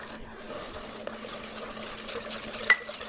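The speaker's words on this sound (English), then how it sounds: "now we're going to just whisk until the butter melts" Gingerbread mixture is whisked in a pot while butter melts, a soft, steady scraping and swishing kept faint and close with one brief clink near the end.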